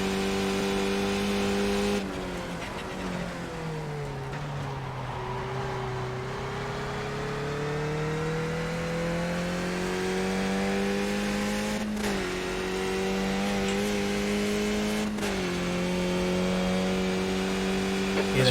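Faster race cars in the iRacing sim close in from behind, their engines revving and climbing in pitch as they approach and pass, layered over a steady nearer engine drone, with a quiet voice at times.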